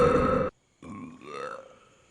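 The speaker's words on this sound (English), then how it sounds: "this one belch that got a giggle out of me" A belch from the animated film The Ant Bully comes out loud and close. A short silence follows, then a drawn-out grunting, croaking vocal sound that wavers in pitch before it fades.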